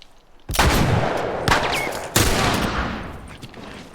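Gunfire from the El Diablo revolver in the video game The Last of Us: three loud, sharp shots about a second apart, each ringing out with a long decaying tail and no talk over it.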